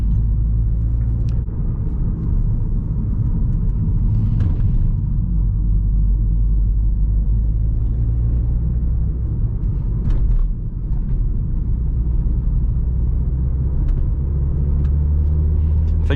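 Steady low engine drone and road rumble from an Audi RS3 8P on a drive, continuous and fairly loud throughout with a few faint clicks on top and no talking.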